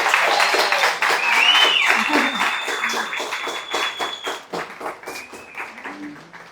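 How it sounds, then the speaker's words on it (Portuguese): Audience applause for a company sales team, a steady wash of many hands clapping at a fairly loud level that thins and fades toward the end. "eu queria pedir aí uma salva de aplausos para os nossos heróis aqui."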